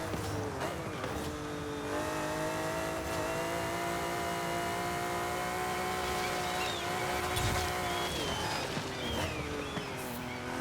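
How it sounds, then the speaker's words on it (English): Racing transmission whine from a car in Forza Horizon 5, a steady high mechanical whine riding over a continuous engine drone, holding level and loud throughout with no talking. "Bit of a transmission whine, especially from the transmission that I put in, the racing one."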